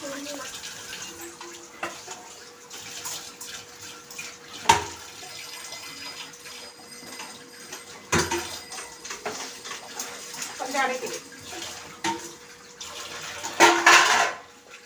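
Dishes and pots being washed under running water at a home kitchen sink: a steady tap stream with scattered clinks and clunks of utensils, louder splashing near the end.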